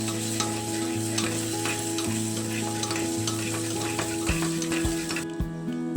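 Two eggs fry with chopped onion, chilli, coriander, tomato, ginger and garlic for bhujia, a continuous close sizzle with stirring scrapes over a steady tonal hum, no voices.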